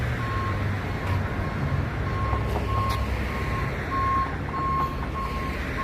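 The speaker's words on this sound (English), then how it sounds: "Tow truck is on the way to pick it up." A tow truck sounds its reversing alarm in a steady series of short, evenly spaced high beeps over a constant low engine and traffic rumble nearby.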